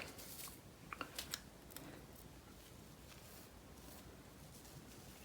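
Scissors snip through wet felted wool, a few quick crisp cuts close by at a faint level over low background hiss.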